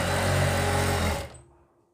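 A sewing machine runs steadily, stitching a folded seam on kurti fabric, its loud continuous motor whir lasting over a second before winding down and stopping.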